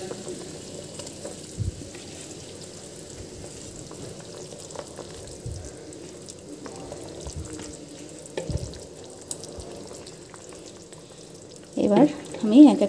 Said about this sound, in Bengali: এবার আমি এক এক করে বেগুনগুলো সব দিয়ে দেব।